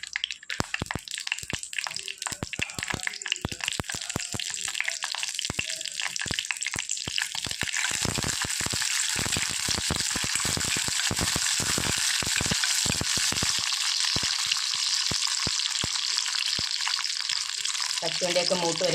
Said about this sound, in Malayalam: കശുവണ്ടിയൊക്കെ മൂത്ത് വരാൻ തുടങ്ങിയിട്ടുണ്ട്